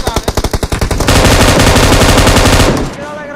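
Automatic gunfire in PUBG: about ten loud, close, evenly spaced shots, then a sustained dense burst of rapid fire lasting over a second before it tails off.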